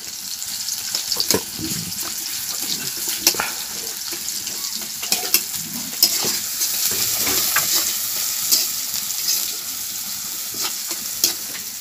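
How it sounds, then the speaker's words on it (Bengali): Onions fry over low heat in a pan, a continuous soft sizzle broken by scattered crackles and the scrape of stirring, close and steady with no talk. "পেঁয়াজটা ভাজা হোক"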